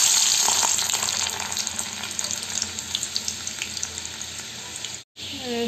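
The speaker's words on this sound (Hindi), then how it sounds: "तेल गर्म हो गया है और हम डालेंगे इसमें थोड़े से लहसुन।" Garlic sizzles in hot oil in a wok while okra is being cooked, a steady, loud frying hiss with small crackles that runs on for several seconds before a brief break.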